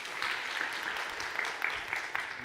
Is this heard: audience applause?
yes